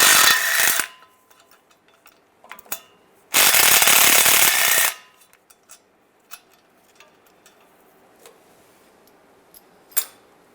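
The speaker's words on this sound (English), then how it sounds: "Using an 11mm socket, take these bolts out." Ratchet and socket work on timing cover bolts of a 2007-2013 Chevy Silverado, with scattered metallic clicks and taps, two long bursts of loud ratcheting or spinning, and a sharp clink near the end, close by with no talking.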